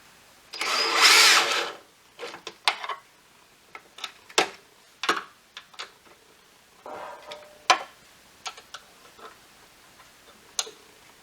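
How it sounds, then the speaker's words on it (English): A power tool with a 10mm socket tightens Integra P1 Spec side skirt bolts, giving one loud burst of whirring, then a series of sharp intermittent clicks and taps. "we can firmly secure it using an Allen key and a 10mm socket and power tool"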